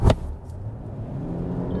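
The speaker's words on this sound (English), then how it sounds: "Oh, this took forever to downshift." An SUV's 8-speed automatic transmission slowly downshifting while driving, heard from inside the cabin as a steady low engine rumble after a brief louder thump at the start.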